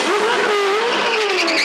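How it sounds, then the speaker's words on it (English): A touring race car spins its wheels leaving the pits at Phillip Island in the 2000 Shell Championship Series, giving a loud, close engine whine and tyre squeal that holds steady across the burst. "plenty of wheel spin as he comes out of the pits"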